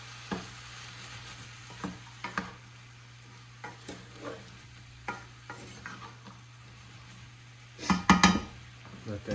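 Salted tomatoes and their juices stirred in a sizzling pan: a low steady sizzle under scattered scraping strokes of a utensil, ending in a louder clatter of the spoon against the pan.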